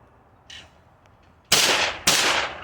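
Two loud, close shotgun blasts on a clay target shooting range, about half a second apart, each a sharp crack with a short ringing tail, following a faint brief sound.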